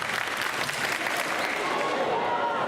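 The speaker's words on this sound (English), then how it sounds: "The crowd seemed pretty impressed." Steady applause from a crowd at a track and field meet, a dense, continuous wash of clapping that holds at an even level throughout, with no single voice standing out.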